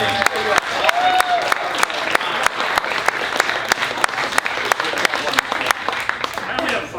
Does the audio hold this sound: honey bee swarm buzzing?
no